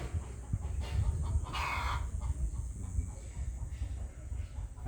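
Close to a cramped backyard, a Brahma hen gives a couple of brief clucking calls, with a low rumbling background and faint movement noise in between.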